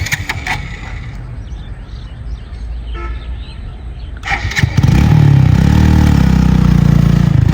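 A motorcycle engine rumbles unevenly, then revs up hard and roars loudly and steadily, close by, during a stunt.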